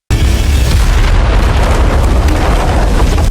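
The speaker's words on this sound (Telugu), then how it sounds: "బాంబు పేలిన వెంటనే" A bomb explodes as a movie sound effect: one sudden, very loud deep boom that roars on as a sustained blast and rumble for several seconds, with no voices.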